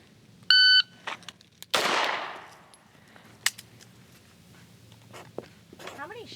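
A shot timer at a shooting range gives a sharp electronic beep, then a loud gunshot follows with a long decaying echo, and a few smaller pops and clicks come after. People speak briefly around the shots.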